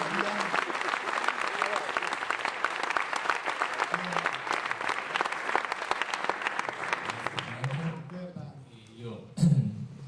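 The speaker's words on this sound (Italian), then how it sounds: "e la signora Dorothy, a cui farei subito un grande applauso" Sustained audience applause fills a hall at a talk in Rovereto honoring a former moonwalking astronaut and his wife, dense and loud for about eight seconds before fading out, followed by a few scattered claps and a brief voice.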